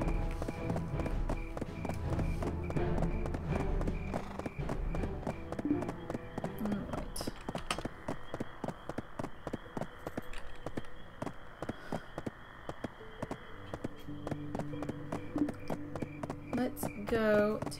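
A donkey mount's hooves in the Black Desert Online game, heard as a steady run of rhythmic clip-clop taps throughout, close and fairly loud over game music and ambience.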